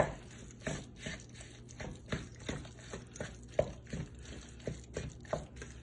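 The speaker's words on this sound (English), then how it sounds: "we're going to start giving this a stir here, kind of mix everything together" Chicken pot pie filling is stirred in a pot, giving soft, regular scraping and thick liquid pats of about two per second, quiet and close, with no talking.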